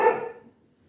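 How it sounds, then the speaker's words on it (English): A single short dog bark, fairly close, fading out quickly into quiet. "that was my dog"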